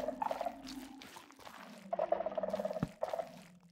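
Water flowing in Minecraft, a soft continuous trickle and splash running steadily underneath, with no talking.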